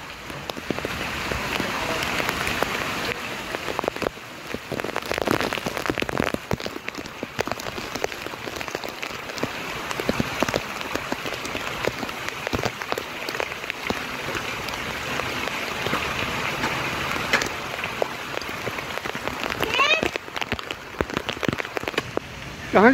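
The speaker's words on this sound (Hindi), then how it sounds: "कई जबरदस्त बारिश हो रही है।" Heavy rain pours down steadily, a dense, continuous hiss of drops hitting a surface close by, with no pauses throughout.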